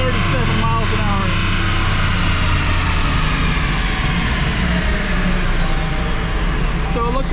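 A Dodge Challenger SRT Hellcat engine roars loudly during a dyno pull, its pitch climbing steadily through the revs while a voice talks over it.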